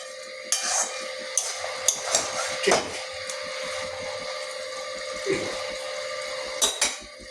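A spoon scrapes and clatters against a pan while a fish head and okra curry is stirred, with several sharp knocks over a steady hum and faint sizzle.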